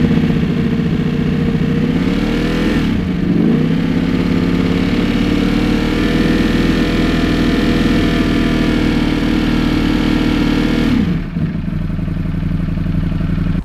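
A 2024 Ducati Streetfighter V4 with a full titanium Akrapovic exhaust revs hard, close and loud, a sustained V4 roar swelling up and dropping back twice over an idling rumble, with no voices.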